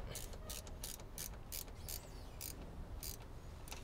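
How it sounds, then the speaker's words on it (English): A ratcheting spanner tightens a bolt on a VCM intake fitted to a Holden VE/VF SS, giving a quick, quiet run of evenly spaced metallic clicks, about a dozen in all, close up. "get a ratcheting spanner on it. Make sure you got it set the right way and tighten that up"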